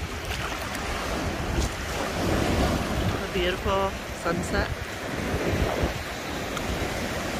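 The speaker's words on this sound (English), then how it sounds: "And the ocean." Surf rolling onto a white-sand beach on the Florida coast at sunset, a steady broad wash of breaking waves with wind buffeting the microphone, while a person speaks briefly over it.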